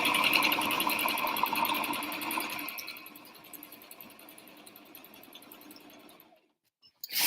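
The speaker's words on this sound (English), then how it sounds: "I'm going to forward stitch and then back stitch about an inch just to secure it a little." A sewing machine stitches through a denim bag with a fast, steady whir that slows and fades near the end, followed by a brief silence and a short click.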